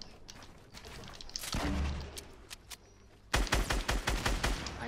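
Gunfire in the Fortnite battle royale video game, with bursts of rapid shots, a brief heavy thud, then a dense run of sharp repeated shots near the end, fairly loud with no talking.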